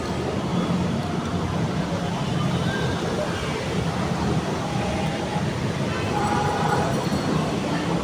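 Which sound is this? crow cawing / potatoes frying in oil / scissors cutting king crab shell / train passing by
train passing by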